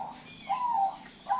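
Zebra doves (perkutut) cooing nearby, two soft rolling coo phrases separated by a short pause, clear over a quiet background.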